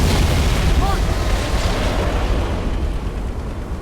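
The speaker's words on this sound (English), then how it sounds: "The Scarab explosion in Halo 3 is, I don't know, top 10 explosions right there" The Scarab in Halo 3 explodes with a massive roaring blast. The deep rumble stays loud across the whole stretch and fades slowly, and a voice talks over it.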